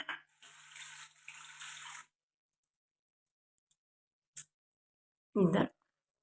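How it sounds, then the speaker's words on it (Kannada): Water splashes and runs for about two seconds as a face is rinsed with water, then silence broken by two short bursts of splashing or rubbing, close and moderately loud. "ನೀಟಾಗಿ ಫೇಸ್ ವಾಶ್ ಮಾಡ್ಕೊಳ್ತೀನಿ"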